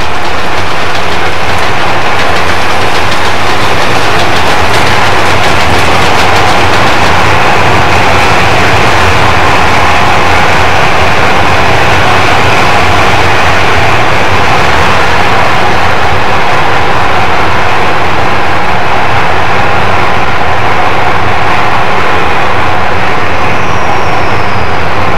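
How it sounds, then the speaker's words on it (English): Southern Pacific cab-forward steam locomotive 4274 emerges from Tunnel 35 on Donner Pass and meets a westbound freight on the opposite main, a loud, steady rumble and roar of rolling trains sustained throughout without any voices. "Emerging from Tunnel 35, 4274 meets a westbound freight on the opposite main."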